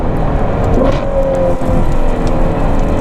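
The V12 engine of a Novitec-tuned Ferrari 812 N-Largo S roars steadily and loudly, a dense, rich drone sustained throughout with no talk.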